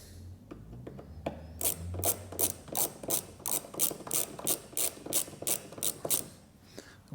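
A ratchet clicks steadily while undoing the top bolt on a Vauxhall Corsa C door mirror, a close run of about fifteen even, crisp clicks following a few lighter taps.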